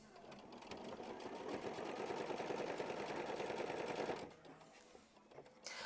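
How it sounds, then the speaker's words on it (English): A sewing machine stitches fabric down for a quilt block in a steady close run of rapid needle strokes for about four seconds, then slows and stops with a few clicks. "We're going to sew machine stitch step 9, and that is going to tack it down for your flip and fold."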